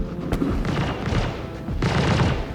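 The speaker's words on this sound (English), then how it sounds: "Something is shooting outside." Gunfire rattles outside in the sci-fi shooter Murder on Kareah, a close, loud burst of rapid overlapping shots and booming thuds running through the whole stretch with no talking.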